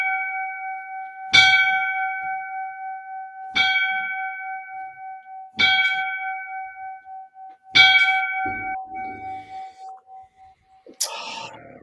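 Five bells ring for a fallen FDNY firefighter, evenly spaced strikes each ringing out and decaying over a steady tone, with a final shorter clang at the end.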